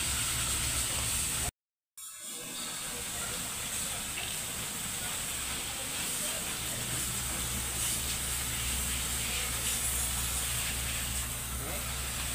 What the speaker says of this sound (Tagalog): Kaya po si Bornok nag-spray siya.